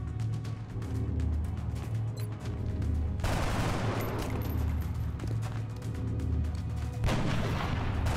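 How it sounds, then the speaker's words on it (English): Heavy gunfire and a booming blast from a sniper rifle shot in the video game XCOM Long War, loud and dense, with a sharp surge partway through over a constant rumbling battle bed. "And then we've got a sniper shot available."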